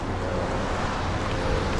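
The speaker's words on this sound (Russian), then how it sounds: "Тут ветер немножко, как бы, да." Wind blowing over a microphone at the Black Sea seaside in Sochi, a steady broadband rush with low rumble that holds loud and even throughout.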